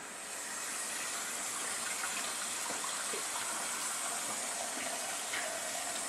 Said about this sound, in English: I'm going to go ahead and add a little bit more water to it.